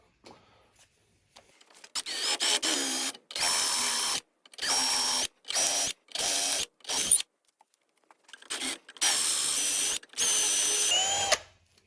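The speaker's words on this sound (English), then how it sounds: "I'm gonna drill all the way down to the factory depth" A power drill bores a hole to factory depth in custom TIG-welded aluminum intercooler piping. It runs in about eight loud, separate bursts, each a steady whine, with short silent gaps between them and a brief quiet stretch at the start.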